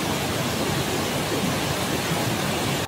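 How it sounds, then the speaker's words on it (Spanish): Steady pink noise from a loudspeaker, a dense even hiss across the whole range like a waterfall, loud and unbroken for the full length with no voices. "les envía algo que se llama ruido rosa. Se caracteriza porque parece el sonido de una cascada de agua"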